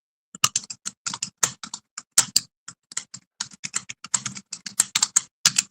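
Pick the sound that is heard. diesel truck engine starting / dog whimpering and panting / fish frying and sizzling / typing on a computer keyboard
typing on a computer keyboard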